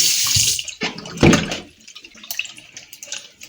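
Tap water runs over food being rinsed in a sink, a close, loud splashing stream that surges, briefly drops away and then trickles on unevenly.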